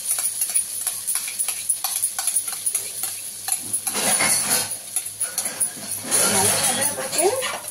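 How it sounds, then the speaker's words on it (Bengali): An omelette mixture sizzles in hot oil in a frying pan, with steady frying crackle and scraping stirring growing louder as it spreads, while a person talks over it. "কড়াইতে তেল গরম হয়ে গেছে, আমি এটার মধ্যে এবার পুরো মিক্সচারটা দিয়ে দিলাম"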